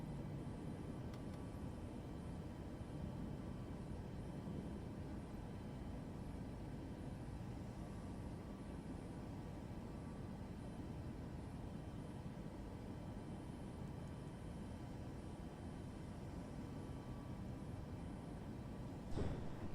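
A steady, dull roar of an airplane in flight just after takeoff fills the cabin at a constant low level throughout, with no voices.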